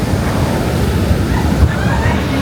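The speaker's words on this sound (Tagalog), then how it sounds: "Ang lakas ng alon, no?" Steady roaring ocean surf fills the scene, a dense wash of strong breaking waves with wind buffeting the microphone and a faint voice underneath.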